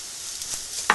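Spices stirred into frying onions in a pan make a steady close sizzle, with a few soft scrapes and a sharper clink near the end.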